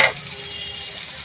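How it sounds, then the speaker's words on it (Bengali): Taro stolons frying in a pan: a continuous close hiss and sizzle of hot oil, steady and moderately loud, with a brief clatter at the start and no talk. "দেখেন এখনই ভাজা ভাজা হয়ে যাচ্ছে"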